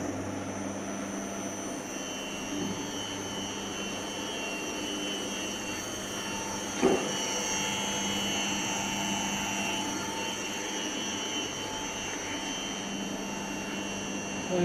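An alternator spun by an electric motor through a variable frequency drive gives a steady, fairly quiet mechanical hum with a layered whine of sustained tones, broken once midway by a brief sharp click.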